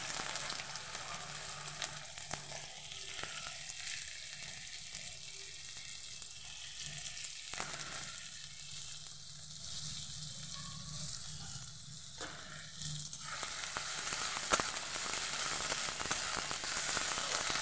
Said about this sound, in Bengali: পেঁয়াজটাকে একটু ভেজে নেব, খুব বেশি লাল করে আমি ভাজবো না।